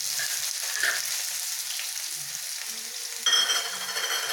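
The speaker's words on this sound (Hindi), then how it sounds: "1 सेकेंड भुनने के बाद हम इसमें डाल देंगे प्याज।" Sliced onion hits hot oil with green cardamom, cinnamon, cloves and black pepper for bhindi do pyaza, giving a steady close sizzle that jumps louder near the end, with faint stirring clinks underneath.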